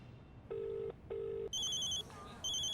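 A phone rings close by: two low electronic beeps, then a higher, brighter tone pattern repeating twice, over a quiet room.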